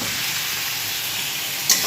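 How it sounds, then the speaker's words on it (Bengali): Potatoes frying in oil in a kadai for a Bengali home meal, a loud, continuous close sizzle with a brief sharper crackle near the end and no speech. "আর এই আলু ভাজা হচ্ছে"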